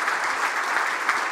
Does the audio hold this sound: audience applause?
yes